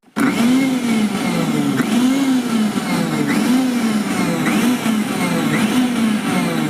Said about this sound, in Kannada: 3-4 ಸರಿ ಆಫ್ ಆನ್ ಮಾಡ್ತಾ ಮಿಕ್ಸಿ ಮಾಡಬೇಕು.